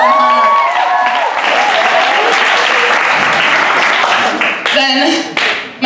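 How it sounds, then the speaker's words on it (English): Loud, dense applause from an audience at a live event, steady for several seconds with a brief voice and tone near the end before the clapping tails off. "so clap for her"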